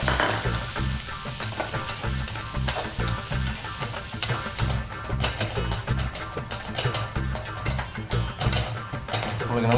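Cabbage sizzles and crackles in hot oil in a pan as it is sautéed for cabbage thuvaiyal, with steady frying and intermittent stirring scrapes.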